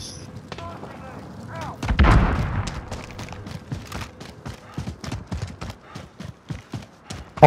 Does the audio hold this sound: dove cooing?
no